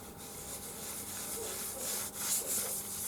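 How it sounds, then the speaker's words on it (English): Dry granular rubbing and scraping as sawdust is worked into cracks of a thin-walled natural live-edge cherry bowl coated with sanding sealer, a steady close, soft texture with slightly louder brushing strokes toward the end. "I'm just putting some sawdust in the"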